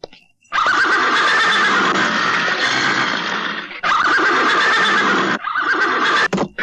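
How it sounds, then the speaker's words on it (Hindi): A horse whinnies loudly and at length in three close bursts, the last one cut short, with no talk over it. "आपके घोड़े को क्या हो गया आज?"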